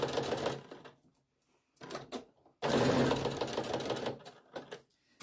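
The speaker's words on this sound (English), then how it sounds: "the base sewing over this goes so fast" A sewing machine stitches the base of a stuffed Halloween ghost, running in fast close bursts separated by brief silent pauses, with a longer run in the middle.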